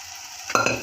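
Crushed peas are stirred into a masala in a pan for a vegetable kurma, a quiet lull giving way halfway through to close, loud scraping strokes over a soft, steady sizzle.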